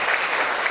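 A short burst of steady clapping from a lecture audience thanking a local Taiwanese art museum, dense and uniform from start to finish.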